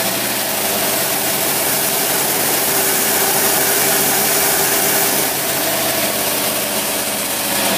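A Mercury Marine outboard engine with a carburetor runs on a dynamometer under RPM control while its torque is tested. It gives a loud, steady, continuous engine drone at close range, with no pauses and no voices.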